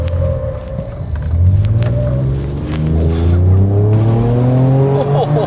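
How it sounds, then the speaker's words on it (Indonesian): A Ford Ranger Raptor with a V6 engine accelerates hard, its exhaust rumbling loud and deep as the revs sweep upward through gears, with someone talking over the engine. "suara knalpotnya itu satisfying banget,"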